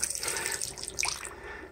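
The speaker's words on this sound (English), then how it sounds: "as running water" Water runs from a tap into a sink, a steady close splashing rush with faint drips, heard alone without talk.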